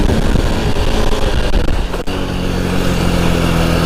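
Motorcycle engine held at steady revs during a one-handed wheelie, a loud continuous drone with a brief dip near the middle as a gear is shifted, then settling back to an even hum.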